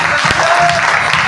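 An audience at a Hindi motivational talk on network marketing claps in a brief, dense burst, steady and close throughout.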